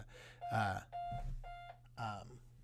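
A steady electronic beep tone pulses a few times at a fixed pitch while a person talks over it in a church office, with a low hum underneath.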